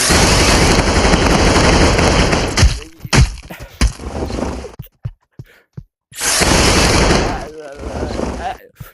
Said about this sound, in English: I have not used the Gatling gun that much